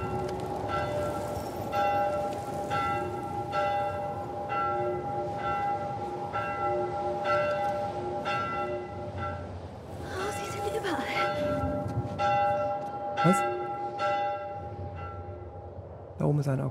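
Repeated bell strikes ring out at a steady rhythm in The Last of Us Part 1, a game set in a ruined city, moderately distant with a sustained ringing tone under ambient game noise and a few brief other sounds.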